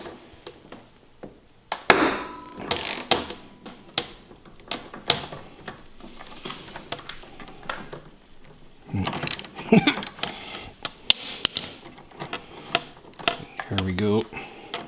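On a Ski-Doo Gen 5 turbo snowmobile clutch, a hand tool clanks and ratchets against metal while the part is loosened with the brake handle on. Irregular close knocks and scrapes come in bursts, and someone talks in between.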